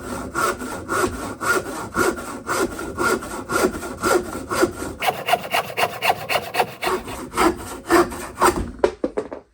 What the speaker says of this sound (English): First, the big saw.